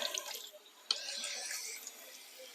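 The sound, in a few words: water running while washing trout fillets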